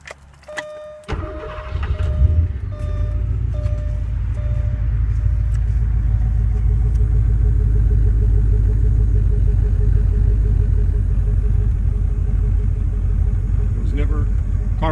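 A 1986 Porsche 928 V8 cranks briefly and catches, then settles into a steady, loud, close idle rumble that holds for the rest of the stretch.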